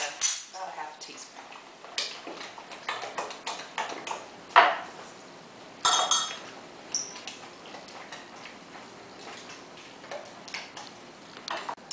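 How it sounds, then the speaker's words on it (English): A utensil mixes a seafood lasagne filling of cream cheese and seasonings in a bowl, making scattered, fairly quiet clinks and taps against the bowl at an irregular pace, with occasional sharper knocks. "You're going to mix this thoroughly."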